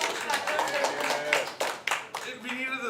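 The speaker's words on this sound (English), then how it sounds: "Can I have a round of applause, please?" Audience applause breaks out at a World Environmental Day quiz, a burst of clapping from a crowd that swells and dips, with several sharper claps standing out near the end.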